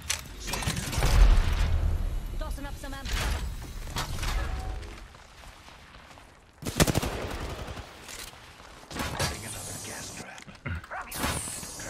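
The Triple Take sniper rifle in the shooter game Apex Legends fires in loud bursts mixed with other gunfire, mechanical clatter and impacts, while someone talks over the action.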